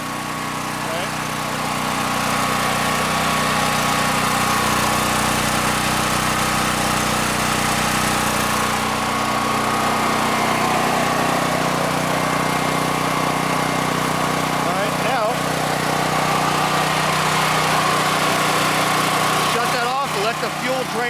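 A DuroMax XP13000EH dual fuel hybrid generator runs steadily with a constant engine drone, loud and close, unchanging over the whole stretch.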